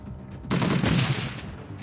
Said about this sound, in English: I guess we're still just shooting turrets out here.